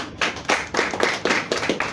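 Audience at an awards unveiling event in Kenya clapping in a brief burst of quick, rhythmic hand claps, close and fairly loud, with no talking over it.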